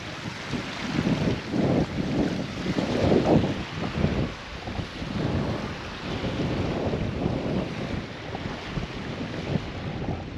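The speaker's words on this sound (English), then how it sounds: "A lot of wind on this lake." Steady wind gusts roar across a lake shore at Boulder Beach near Hoover Dam, buffeting the microphone in broad surging waves with no voices.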